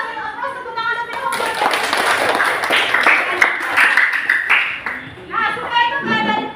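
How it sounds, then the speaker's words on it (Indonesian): Students in an Islamic religious education classroom clap for a classmate's correct answer, a few seconds of lively group hand clapping with voices chattering around it, then fading as talk resumes. "kita kasih aplaus tepuk tangan dulu."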